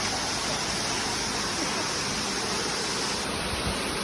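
Tamarao Falls in Puerto Galera, Mindoro, roars as a steady, dense rush of falling water, loud and close throughout with no break or variation.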